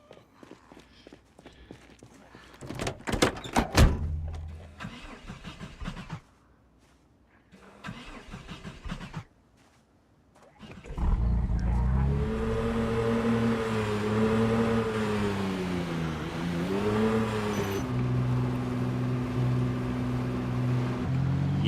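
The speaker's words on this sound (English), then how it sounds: "You know, I didn't think mufflers could get any louder than those other two." Loud car engine with a muffler in the video game Project Zomboid, roaring steadily with shifting revs for about ten seconds after scattered quieter thumps and clatter.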